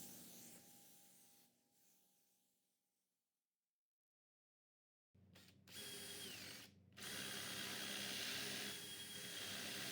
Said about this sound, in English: bore out the holes for the door hinges